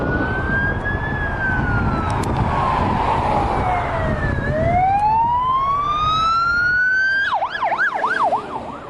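Wailing fire truck sirens at an Australian bushfire in New South Wales, loud and continuous, sweeping slowly up and down before breaking into a rapid yelp near the end, with no talking.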